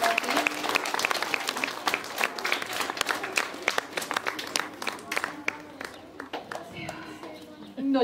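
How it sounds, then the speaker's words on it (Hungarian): Sustained applause and clapping from a crowd fills a school graduation ceremony at a Hungarian lyceum, steady and moderately distant, with a speaker's voice over it toward the end. "Sallai Magornak is nagy tapsot, és gratulálok neki."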